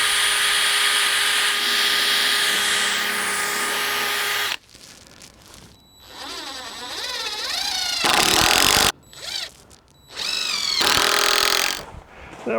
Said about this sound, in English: I am going to pre-drill these because going into end grain, these have a tendency to wander.